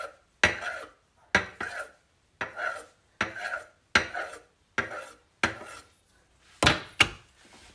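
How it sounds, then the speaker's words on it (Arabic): A knife cuts butter into slices for khubz ruzz al-qadi, nine or so crisp, evenly spaced strokes against a board, close and clear with quiet gaps between them. "هسه بالسكينة خلونا نخرج الزبدة مالتنا، راح نسوي لها هالشكل شرايح"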